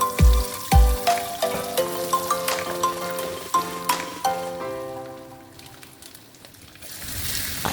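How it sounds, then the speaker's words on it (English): Red palm oil sizzles in a heated pan with salted fish and locust bean powder for a Nigerian efo dish. A steady crackling hiss runs under a melodic background tune and eases off toward the end. "I added palm oil, which is red oil, with salted fish, locust bean powder"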